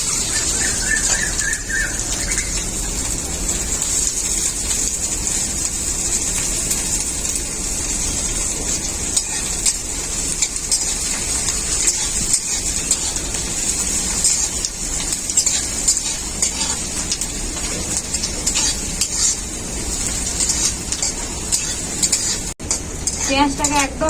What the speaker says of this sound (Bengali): এখন আমি কেটে রাখা পেঁয়াজ দিয়ে দেবো।